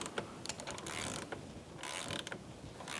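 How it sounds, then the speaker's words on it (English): A ratchet wrench torquing the main footpeg bolt on a Honda Grom fitted with Driven Racing rearsets, giving close mechanical clicking and creaking in short bursts with a steady shop hum underneath. "So now we need to torque this main bolt to 54 foot-pounds."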